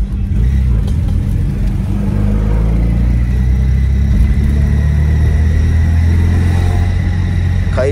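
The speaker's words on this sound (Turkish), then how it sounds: "Kayış sesine bak ya. Şarj kayışı arkadaşlar bu da." A car engine revs in a loud, constant low rumble with a whirring, whining charging belt running over it throughout, close and steady.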